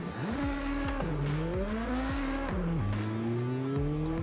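A rear-wheel-drive hypercar in a racing simulator game, its engine loud and close as it shifts up through rising gear sweeps with quick drops between them, alongside squealing tires.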